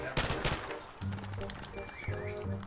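Gunfire in a Call of Duty prop hunt match, rapid bursts of shots mixed with game music and effects while players talk loudly over it.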